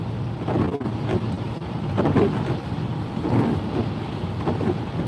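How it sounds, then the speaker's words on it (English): Rain while driving a car on the road to New York, a steady rumbling wash of road noise and wind with soft patter on the vehicle, continuous and fairly loud with no talk. "The rain is actually let up"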